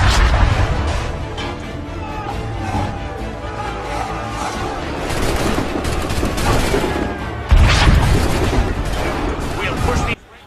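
Musket fire from a battle in Assassin's Creed III, a continuous dense clatter of gunfire and booms over a rumbling backdrop, with a loud burst of volleys near the end.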